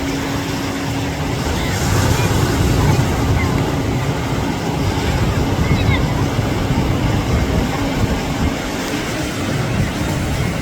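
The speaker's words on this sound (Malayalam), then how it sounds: "ആ ബോട്ടിനെയാണ് സ്പീഡ് ബോട്ട് വെച്ചിട്ടാണ് ഇത് വലിച്ചു കൊണ്ടുപോകുന്നത്" Speedboat towing a banana boat off Varkala North Cliff, its engine drone blended with waves and heavy wind buffeting the microphone, steady and close.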